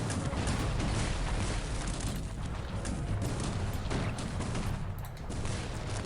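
Continuous battle din from Cossacks 3, with musket volleys and mortar fire crackling and booming densely throughout, loud and sustained with no clear gaps.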